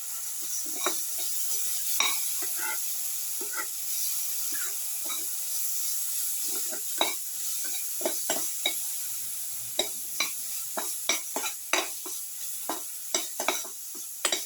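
Ground beetroot being stirred and mixed in a pan for a beetroot potato yogurt casserole, with a steady background hiss of sizzling and repeated sharp scraping clicks of a spoon growing more frequent toward the end, close by.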